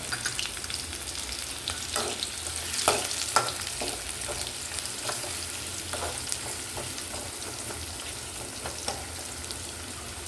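Onions fry in hot oil in a pan with turmeric for a dried anchovy fry, a steady close sizzle with scattered crackles and pops throughout and no talking.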